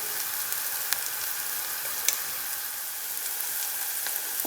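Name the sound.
sautéing onion, tomato and turmeric in a pan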